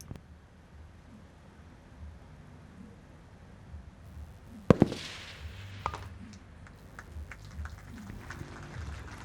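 A single sharp crack from an AX-308 7.62mm sniper rifle at a military firepower exercise, sounding at a distance as a brief loud report with a quick echoing tail, followed by faint scattered knocks against steady outdoor background noise.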